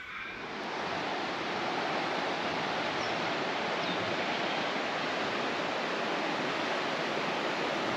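Water pours over Stephen's Weir near Deniliquin as a steady, broad rushing roar that swells in over the first second and then holds constant and full, with no voices.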